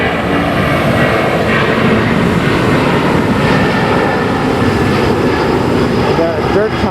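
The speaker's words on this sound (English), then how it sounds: "Oh, there's an airplane taking off." An airplane taking off overhead produces a loud, continuous roar that fills the scene steadily, with someone speaking over it and outdoor construction-site background noise.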